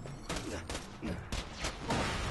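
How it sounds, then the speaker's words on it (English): Borderlands 2 gameplay: rapid bursts of in-game gunfire and explosions hit in quick succession, several loud, sharp blasts spaced unevenly across the moment, with a voice speaking underneath. "I'm trying to shoot all these explosions into him, but I can't shoot enough explosions into him."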